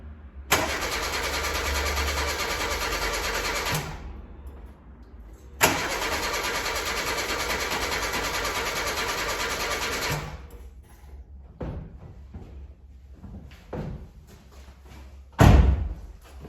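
A 1988 VW Golf MkII barn find engine cranks for two long stretches of several seconds each on its first start attempt, a loud, steady, close starter whir, followed by clicks, clunks and handling noises.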